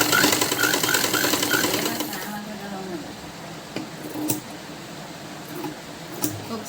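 A sewing machine stitching cloth for a baby frock whirs in a quick rhythmic burst at the start, then fades to a low background hum with scattered clicks.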